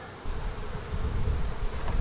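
Honeybees buzzing around an open hive during an inspection, a dense close droning hum that swells after a quiet first moment and holds steady to the end.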